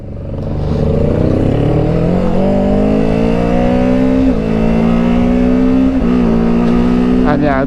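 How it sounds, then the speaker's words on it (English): A 2024 Kawasaki Ninja 7 Hybrid motorcycle's gas engine runs steadily and loudly up close, its pitch climbing and dipping slightly through smooth shifts without any break in the drone. "it's really smooth once the gas motor's running"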